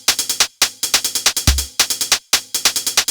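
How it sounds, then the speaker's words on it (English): Programmed hip hop drum beat in Soundtrap with loud, bright hi-hats ticking in fast clusters between snare hits, one deep kick booming midway, played loud and close with short gaps of silence. "Might be a little bit of a loud hi-hat sound on this drum kit"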